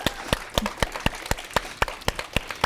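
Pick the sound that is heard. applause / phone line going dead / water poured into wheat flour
applause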